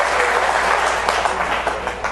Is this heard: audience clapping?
yes